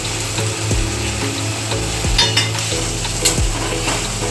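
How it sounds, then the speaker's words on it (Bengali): Spice masala being stir-fried in a pan for aloo paneer dum, a steady close sizzle with repeated scraping strokes of a utensil against the pan, no talking. "এবার সব কিছু দিয়ে ভালো করে মশলাটা কষিয়ে নেব।"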